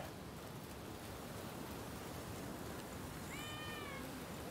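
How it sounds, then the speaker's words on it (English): A cat meows in the video game Rise of the Ronin, a short rising-and-falling call near the end over a steady loud bed of hissing noise, fairly faint. "It is a running cat."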